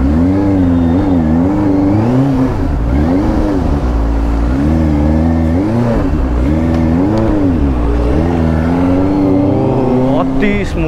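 A 2021 Benelli TNT 600i inline-four motorcycle on its stock exhaust, revving loud and close in repeated rising and falling sweeps, with a voice talking over the engine.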